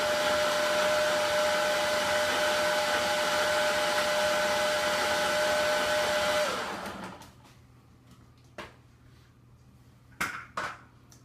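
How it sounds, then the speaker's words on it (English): A blender whirs loudly and steadily for about six seconds, mixing a mass gainer protein shake with ice, then winds down, followed by a few sharp clinks of the jar and lid. "Throw on the lid. And mix it up."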